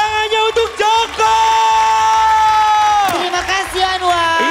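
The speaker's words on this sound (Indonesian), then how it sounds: "Tepuk tangannya untuk Joko." An audience at the KDI singing contest cheers for contestant Joko, with loud, sustained crowd shouting and whooping and long held tonal cries over a busy, rising and falling roar.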